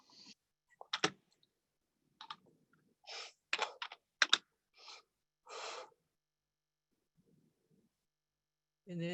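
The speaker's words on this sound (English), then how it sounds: "somebody is on the line who is typing" Keyboard typing comes through an open line on a video meeting call, in irregular bursts of sharp clicks with pauses between, fairly faint, and no one speaks over it.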